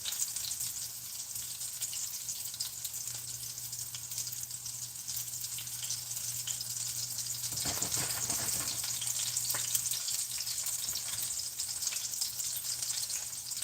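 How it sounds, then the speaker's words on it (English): Pork katsu fries in a pan over medium heat, giving a steady, close sizzle that runs throughout with a low hum beneath it and a brief louder crackle partway through, with no one speaking. "we have the pork frying on a medium temperature"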